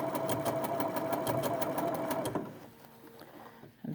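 A Bernina sewing machine stitches a blind hem, a steady rapid mechanical whir with rhythmic needle clatter running loud and close, then stopping abruptly to leave quiet room tone and a small click at the end.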